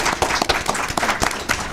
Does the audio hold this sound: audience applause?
yes